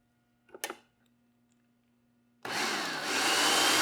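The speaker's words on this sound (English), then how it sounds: "a little over half a cup of pecans to the processor, and we're going to pulse this until it grinds up" Food processor grinding pecans with melted butter and powdered erythritol for a keto cheesecake crust; after a few faint clicks, a loud, steady whirring grind starts partway through and runs on to the end without pause.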